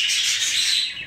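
Pet birds, Jumbo Tepeli pigeons, chirping in a dense high-pitched chatter, a short continuous burst close by with no voices.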